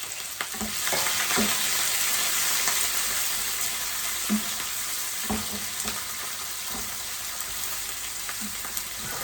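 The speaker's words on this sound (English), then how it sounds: "pour all my green ingredients into my frying pan like so." Steady, loud sizzling of vegetables frying in a hot pan, with occasional soft clicks of stirring; no voices.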